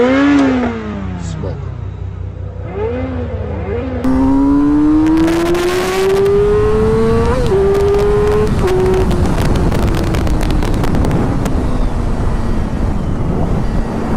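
A Yamaha R6 motorcycle accelerates hard through its gears while racing a Subaru WRX: rising engine whines with sharp shifts, close and loud, over heavy wind roar from the riding microphone.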